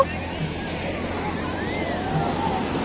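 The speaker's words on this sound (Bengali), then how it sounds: "প্রচন্ড ঢেউ উঠছে, প্রচন্ড, মানে একটু গেলেই ভিজে যাচ্ছি" Strong sea waves surge and break on a beach, a steady loud roar of surf with wind noise filling the whole stretch without pause.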